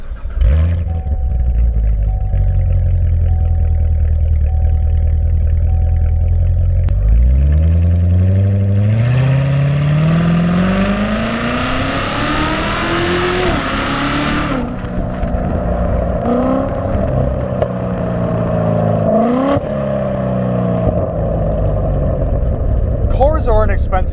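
A Corvette C7 Z06 engine cranks and fires up, then revs hard through several rising sweeps before settling back to a loud, rumbling idle, close by.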